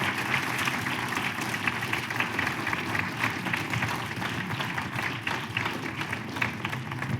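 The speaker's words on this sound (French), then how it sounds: "Je pense qu'on peut à nouveau t'applaudir." An audience at the close of a conference talk on engineers and humanity's greatest challenge gives sustained applause, a dense, even roar of many hands clapping that continues unbroken and fairly loud from start to finish.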